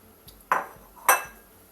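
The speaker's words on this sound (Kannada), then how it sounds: "ಬಾಣಲೆ ಬಿಸಿ ಆದ ನಂತರ ನಾವು ಮೀನನ್ನು ಸೇರಿಸಿಕೊಂಡು ಡ್ರೈ ಫ್ರೈ ಮಾಡುವ." Dry fish dropped into a hot pan for dry frying, giving two separate clattering bursts close by, each with a brief sizzling tail and nothing else in between.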